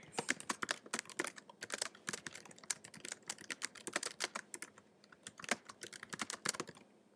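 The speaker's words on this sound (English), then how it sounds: "So now we're just going to type in a quick little message or whatever your name is" Rapid typing on a computer keyboard, close and clear, with uneven bursts of clicking keystrokes and short pauses between them, no talking.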